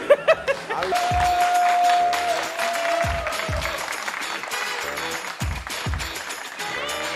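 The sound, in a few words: studio audience applause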